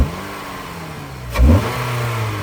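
A 9th gen Honda Civic Si with a newly fitted intake revs hard once, its engine climbing from a steady idle into a loud burst then settling back to a raised hum, close by with no talking.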